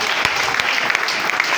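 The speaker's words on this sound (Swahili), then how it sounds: "Nipigie makofi" A church congregation claps together at a preacher's call, a steady dense patter of many hands filling the room, loud and continuous with no talking over it.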